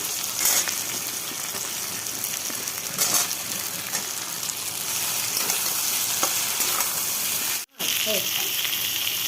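Sliced ridge gourd and green chillies sizzle loudly in hot oil in a pan, a continuous frying hiss with occasional stirring scrapes and one brief break.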